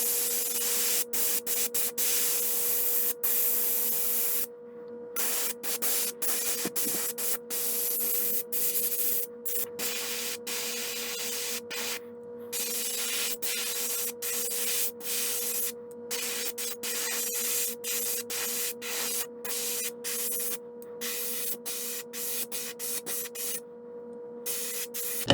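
Opaque white spray paint on a handmade wooden saltwater stick-bait fishing lure: long, steady hissing spray bursts separated by brief pauses, with a faint constant hum beneath.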